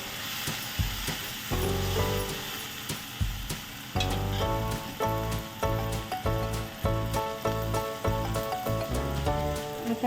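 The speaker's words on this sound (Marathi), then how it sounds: "अर्धा ते 1 मिनिट थोडंसं परतून घेऊया।" Masala paste sautéing over onions in hot oil for a Konkan-style prawn masala, with a steady sizzle under rhythmic, repeated stirring knocks and scrapes in the pan.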